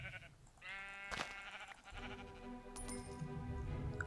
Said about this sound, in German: Die Schafe,